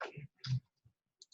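A computer keyboard gives a few quick, soft key clicks in short irregular taps, separated by brief silences, close and faint.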